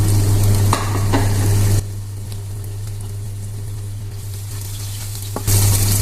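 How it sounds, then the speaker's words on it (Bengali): Garlic and tomatoes fry in hot oil in a pan, a loud steady sizzle that runs continuously, easing slightly in the middle and swelling again at the end, with no talking. "ইন আ প্যান তেল নিয়েছি। ফার্স্ট আমি গার্লিক আর টমেটোগুলো দিয়ে দেবো।"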